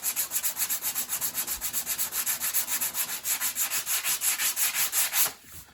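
Sandpaper rubs by hand over body filler on a 2010 Acura RDX panel in a rapid, steady back-and-forth rhythm, close and loud, about twenty even strokes before it stops.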